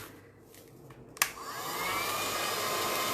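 A hair dryer drying a mixed media surface, starting with a sharp click after a few faint handling taps, then blowing in a steady, close, whooshing hiss that holds to the end without speech.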